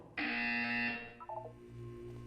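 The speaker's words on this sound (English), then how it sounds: "When you hear the buzzer, look down at the floor." A loud, harsh buzzer sounds once in the Portal 2 video game, a sustained blast lasting under a second that cuts off and leaves faint electronic tones and a low hum.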